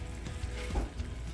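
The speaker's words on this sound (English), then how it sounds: "Now we'll simmer this until everything's done and thicken it as necessary." Chicken and poured-in juice simmer in a pan, giving a soft, faint sizzle and bubbling that runs steadily with a few gentle swells.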